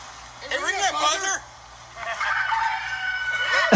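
Rooster-crow buzzer sound at a two-bagger cornhole league match, a loud electronic crow with rising and falling calls amid lively talk and background chatter.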